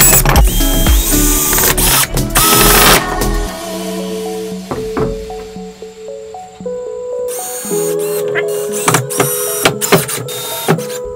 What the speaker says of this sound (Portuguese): na verdade é mais colocação de parafusos